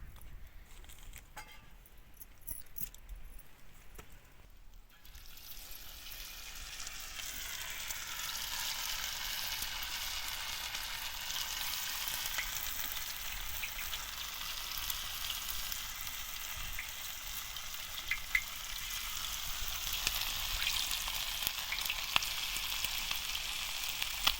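Chicken pieces fry crisply in oil in a pan, a steady dense sizzle that starts after a few seconds of quieter handling noise and grows slightly louder, continuous and close throughout.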